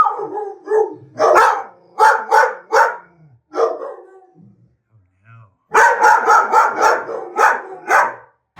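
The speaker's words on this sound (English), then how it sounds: "Are you growling?" A shelter dog gives a series of close, loud barks and yips in two bursts, with a quieter stretch of low growly sounds and whimpers between them.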